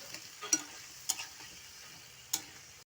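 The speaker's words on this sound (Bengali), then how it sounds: "দিয়ে মশলাটাকে ভালো করে কষিয়ে নেব" Spice masala with salt and a splash of water being fried and stirred in a pan for doi potol, a faint low sizzle broken by three sharp spatula scrapes against the pan.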